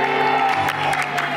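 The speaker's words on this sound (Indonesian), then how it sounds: "berikan tepuk tangan untuk sang mama dan juga Wendy" A studio audience applauds for a dating show contestant and her mother, dense steady clapping with faint cheers mixed in.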